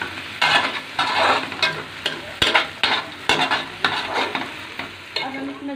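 Garlic is stirred in an oiled pan for mutton curry, a steady sizzle and frying crackle with repeated scraping strokes of a spoon, close and fairly loud, with no talking.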